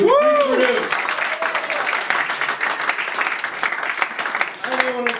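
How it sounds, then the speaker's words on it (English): An audience on a booze cruise bursts into sustained applause, dense clapping with a few cheers, while a voice talks briefly at the start and end. "clap it up for this gentleman who produced"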